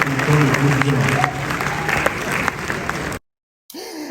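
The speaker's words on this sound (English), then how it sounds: "can you put a round of applause for my panelists?" Audience applause for a panel's speakers at a public-private partnership talk event, a dense steady clapping crowd for about three seconds with voices mixed in, then a sudden cut to silence and a brief burst of sound.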